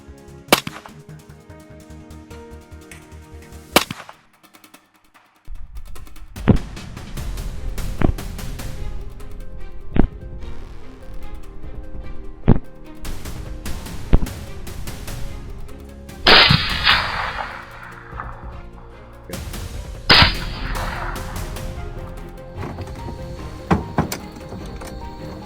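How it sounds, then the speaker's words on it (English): Gunshots fired at a herd of wild boars at night, a series of sharp, loud cracks spaced irregularly over about twenty-five seconds against a steady background, with some bursts ringing out longer than others. "lined up my aim, and fired only when the shot was perfect"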